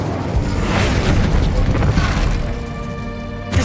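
Incendio fire spell cast in Hogwarts Legacy erupts with a loud whooshing boom, a dense burst of roaring flame that swells, holds, then fades, followed by a short sharp hit at the very end.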